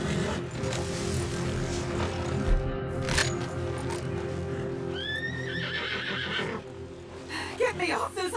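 A horse whinnies in Red Dead Redemption 2, a clear rising and falling neigh midway through, set over a busy game soundscape with hoofbeats, background noise and characters talking around it.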